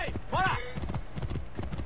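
Horse hooves clip-clop steadily in Assassin's Creed Origins, a quick rhythmic trot with a brief whinny near the start, heard under someone talking.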